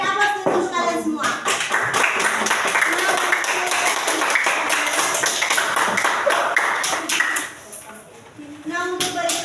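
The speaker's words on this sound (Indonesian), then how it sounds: "Beri aplaus untuk kalian semua." A classroom of students claps for their presentations, a dense, loud round of applause that runs for several seconds and then fades, with voices around it.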